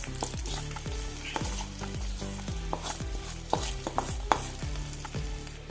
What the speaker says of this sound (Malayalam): വറവ് റെഡി ആയിട്ടുണ്ട് ഗ്യാസ് ഓഫ് ചെയ്ത് കറിയിൽ കൊഴിച്ച് കൊടുക്കാം